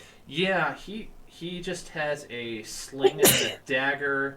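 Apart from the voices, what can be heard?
sneeze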